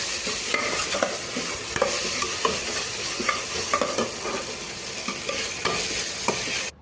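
Jackfruit curry with tomato stirred in a pan, a spoon scraping and turning the food in steady strokes over a constant frying sizzle, close and fairly loud, with no talking.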